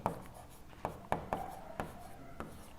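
A marker or chalk taps and scratches across a classroom board in a short run of sharp strokes as the mirror formula is written out, close and clear over a quiet room.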